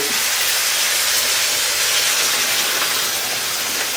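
Turmeric water hits a hot frying pan while cooking rohu fish curry with potato and cauliflower, giving a steady, loud, broadband steaming hiss that holds evenly throughout with no talking.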